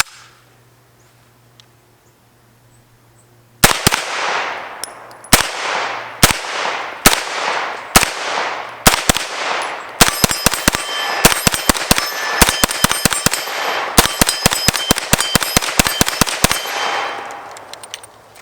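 An Extar EP9 pistol fires a string of sharp, loud gunshots after a quiet start, first spaced out and then coming in quicker bursts, each crack ringing briefly in an open setting.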